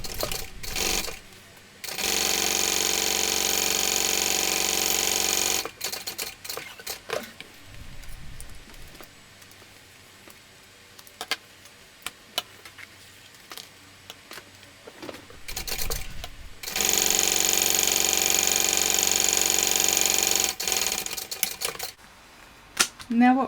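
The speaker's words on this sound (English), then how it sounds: "And then we're going to top stitch either side" A sewing machine top stitches a shoulder bag seam with a steady, fast mechanical whirr in two long bursts, separated by a stretch of quiet handling clicks and soft rustling, with a voice speaking faintly in between.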